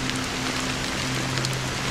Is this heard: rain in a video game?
yes